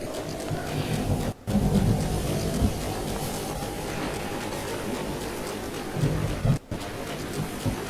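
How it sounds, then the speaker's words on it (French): Steady rain with low rumbling thunder in the video game Zelda: Breath of the Wild, a continuous loud wash of rainfall with heavier swells, briefly cut out twice. "Ah, il pleut."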